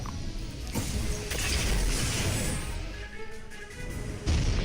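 Sustained mechanical clatter and rumbling bursts of ship weapons pounding an enemy hull in the space game Holy Potatoes! We're in Space, loud and continuous with a heavier hit near the end.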